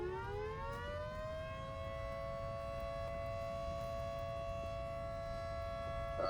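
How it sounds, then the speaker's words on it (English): Warning siren in the video game Volcanoids, rising in pitch over the first second, then holding a steady, sustained wail that carries through to the end without speech. "So it sets off the siren that says you don't want to be here anymore."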